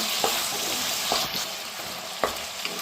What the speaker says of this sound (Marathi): याला आता आपण चांगली तेलात मिठामध्ये परतून घ्यायचं